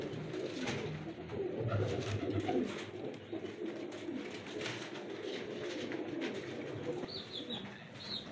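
Pigeons of a prized fancy breeding setup coo softly and steadily at close range, with some faint chirps in the background.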